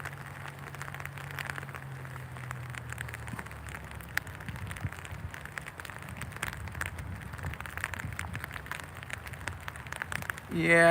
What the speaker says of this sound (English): Yeah, it's just rain.